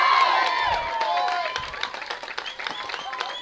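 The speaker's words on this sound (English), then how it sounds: "And you can hear the home crowd really rooting for Owen." A home crowd at a baseball game cheers and applauds, a dense roar of claps, whistles and shouts that stays loud throughout, with voices mixed into the noise.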